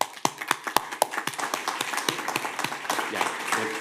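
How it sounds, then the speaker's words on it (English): Scattered applause from a small group at a city commission meeting, following a proclamation, with individual sharp claps sounding close and uneven, thinning out toward the end. "Let's give them a round of applause."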